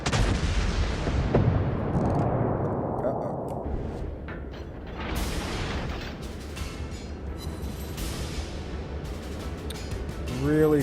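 Naval artillery fire in World of Warships: heavy shots and sharp cracks land at irregular intervals over a rumbling sea and engine din, loud and close, while a voice talks at moments.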